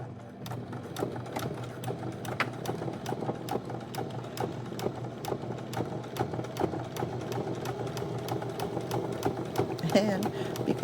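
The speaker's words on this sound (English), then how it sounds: "I am going to back stitch at the beginning to make sure that everything stays in place, because this is not a gathering stitch" Sewing machine back stitching along a sweatshirt seam, a continuous close motor hum with rapid regular needle ticks throughout, running steadily without spoken words.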